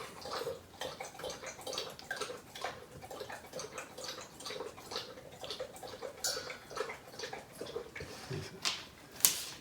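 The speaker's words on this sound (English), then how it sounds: "it looks like I'm going to be editing out some dog drinking noises" A dog laps water from a bowl indoors on a hard floor, a quick rhythmic series of wet slurps and drips, fairly quiet and close, with no talking.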